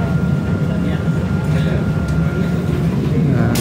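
Airport SkyTrain people mover running between Terminal 2 and Terminal 1 at Soekarno-Hatta, Jakarta: loud, continuous rolling rumble and cabin hum with faint clicks, a voice speaking over it.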